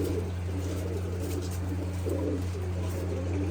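Pigeons just settled on a rooftop coo in low rolling bursts, two or three swells close by, over a steady humming background drone and no talk.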